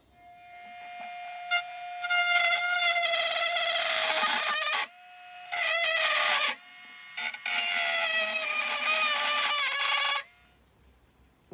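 A Dremel-like rotary cutting tool slices through model railway track, a loud high whine that starts and stops in several long bursts with short pauses between, close up and without talk.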